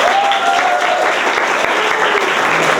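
A large indoor audience at a Lyon comics festival breaking into loud sustained applause, dense clapping throughout with faint crowd noise mixed in.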